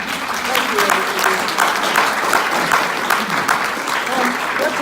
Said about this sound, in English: So let's give a round of applause to Andrew.